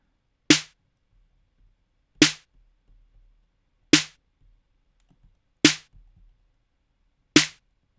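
A snare drum from a beat made in FL Studio, with no timing shift, strikes five times at an even, slow pace, each hit sharp and loud with a quick decay and silence between.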